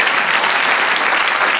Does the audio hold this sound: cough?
no